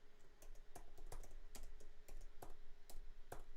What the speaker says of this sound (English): I can't get rid of that clicky keyboard though. That's the one thing you'll still hear.